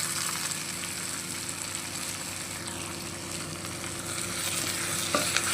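Boiled, mashed potato stirred into a frying pan for hotel-style aloo dosa masala, with a steady close sizzle and soft scraping stir running continuously throughout, no talking.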